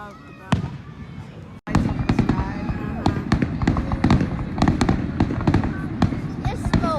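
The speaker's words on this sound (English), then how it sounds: "I love fireworks." Fireworks going off at night, a rapid series of sharp cracks and pops with one sudden brief dropout, over outdoor crowd noise and people talking.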